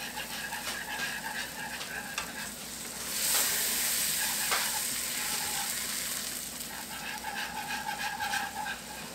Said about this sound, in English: Just keep whisking it,